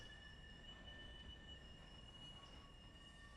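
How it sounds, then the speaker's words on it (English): Steady high-pitched metallic wheel flange squeal from a train rounding a sharp curve in the Railroader railroad simulation game, continuous with rolling rumble beneath, loud and sustained throughout with no voices. "this is a really sharp curve, so you really get a lot of flange squeal"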